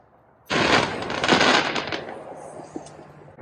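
Fireworks going off outdoors in the evening near a chicken coop, a dense burst of crackling, popping blasts starting abruptly and continuing in a rapid rattle for several seconds, loud and close, with a sharp pop near the end.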